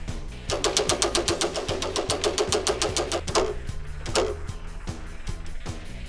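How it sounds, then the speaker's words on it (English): A prize wheel is spun at a game-show-style event, making a fast, regular run of clicks that slows gradually over several seconds. The clicking stays close and clear, and no one speaks over it. "Come up and spin the wheel."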